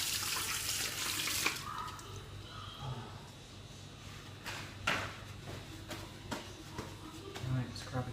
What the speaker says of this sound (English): I'm just going to quickly wash my hands here.